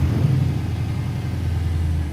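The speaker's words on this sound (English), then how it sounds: "It unfortunately doesn't have any mufflers on it, so I'll try to talk louder over the car." A 5.7-liter race car engine running with no mufflers, a loud, steady low rumble idling close by for the whole stretch, with no talking over it.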